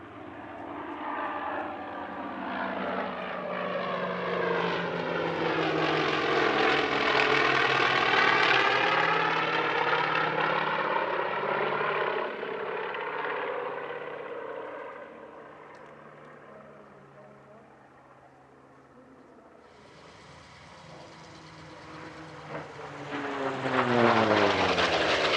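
A vintage multi-engine propeller plane drones overhead at the Warbirds over Scone airshow, its engines swelling loud as it passes close, fading, then a second roaring pass builds near the end.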